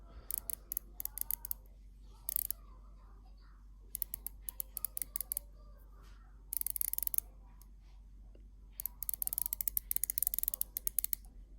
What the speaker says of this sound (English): let's do the bezel movement. Nice sound,